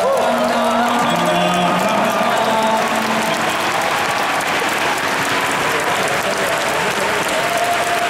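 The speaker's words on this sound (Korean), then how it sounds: "이분들께 박수 한번 부탁드립니다." Concert audience at a gala concert in Daegu applauding staff and orchestra, dense sustained clapping filling the hall, with a voice speaking briefly over the start.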